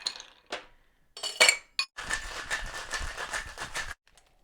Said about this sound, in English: let's throw some ice in here and shake it up